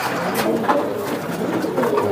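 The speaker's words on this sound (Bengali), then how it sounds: "খুবই সুন্দর একটা কবুতর।" A racing pigeon, a grizzle cock bird, coos softly at close range in a few short murmuring calls, with faint background noise.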